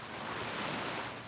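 Ocean surf rolling and crashing onto a beach on a fairly calm day, a steady broadband wash with some wind across the microphone, continuous and fairly close with no talking.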